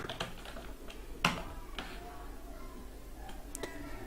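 Keys on a computer keyboard are tapped in a sparse, irregular series of close clicks, with a louder keystroke partway through, over quiet room tone.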